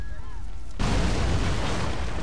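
A faint tone gives way to a sudden loud explosion in Assassin's Creed 3 that settles into a heavy, sustained roar of rumbling noise.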